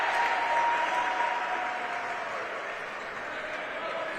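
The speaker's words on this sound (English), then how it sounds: "He gets a big round of applause." Basketball crowd at a college men's championship game in a home gym gives a departing player a big round of applause, a dense, sustained roar of clapping and cheers that fades slightly, with a commentator talking over it.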